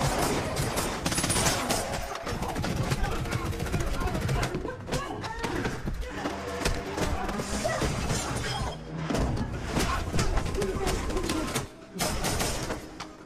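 Rapid bursts of gunfire crackle amid a dense, busy film soundtrack during a chase and shootout, with shattering and impact noises, loud and continuous.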